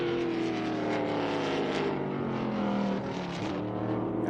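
ARCA Menards Series West race cars lapping at Utah Motorsports Campus, a steady loud engine drone with shifting pitch as the field roars past, continuous with no breaks.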